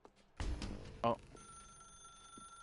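A telephone rings in a video game. A short ring comes through under narration and is followed by a steady electronic tone.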